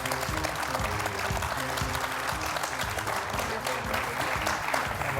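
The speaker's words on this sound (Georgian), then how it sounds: "აპლოდისმენტები ჭირდება ლაზარეს" An audience applauds a young boy back after his cleft lip surgery, with steady, dense clapping that holds at an even level throughout, while some faint talk sits underneath.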